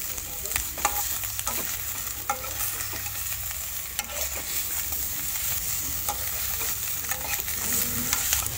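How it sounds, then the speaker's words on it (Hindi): Chicken and potatoes are stirred in a hot, dry kadai with no oil, giving a steady close scraping and soft sizzle with repeated spoon strokes throughout, and no talking. "ऐसे बिना ऑयल में ही मैं इसे चला रही हूँ।"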